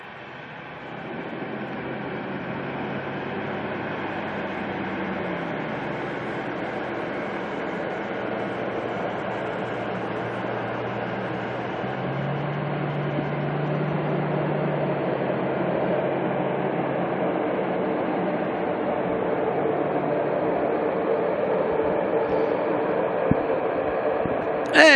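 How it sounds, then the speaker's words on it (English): An ATR turboprop airliner on final approach to land at Auckland Airport, heard as a steady, sustained engine drone with a low propeller hum that builds slightly toward the end, fairly distant and without speech. "A few little adjustments by the ATR there on just as it comes into land"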